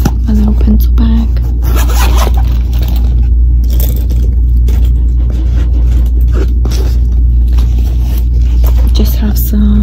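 A small pencil bag being unzipped, with rough scraping zipper bursts and rustling close up over a loud steady low hum, while a person talks.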